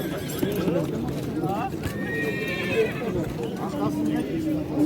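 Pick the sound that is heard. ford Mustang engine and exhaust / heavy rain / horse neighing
horse neighing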